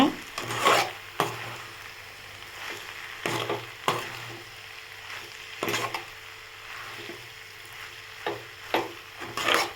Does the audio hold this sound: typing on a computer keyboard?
no